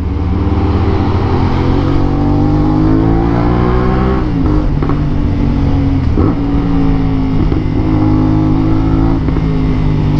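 A BMW S1000R motorcycle idles close by with a steady, loud, throaty exhaust drone, then blips its throttle in a few quick revs midway before settling back to a constant rumble.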